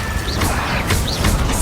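Blasting Confringo spell impacts in Hogwarts Legacy combat against Inferi: three quick, loud, crashing bursts over dense, noisy battle sound.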